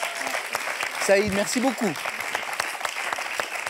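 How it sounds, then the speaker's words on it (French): Audience applause for a champion at a French game show, a steady wash of clapping beneath a voice briefly speaking over it. "on peut juste la féliciter et l'applaudir"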